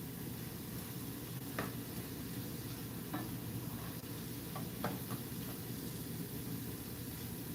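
Tofu scramble sizzles steadily in a pan over medium-high heat, with occasional soft scrapes and taps from a utensil stirring it, close and continuous without talk.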